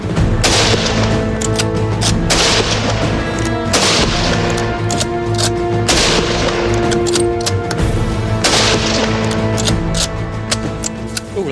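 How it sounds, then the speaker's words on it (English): A rapid string of rifle shots, about ten rounds fired in quick succession on a First World War–style firing line, loud and close with sharp cracks and ringing echoes, no voices. "10 rounds rapid fire! In your own time, commence!"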